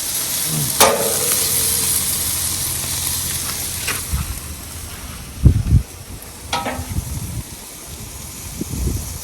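Beef kebabs sizzle in a pan as they cook on one side, a soft, steady hiss broken by a few sharp clinks and dull knocks.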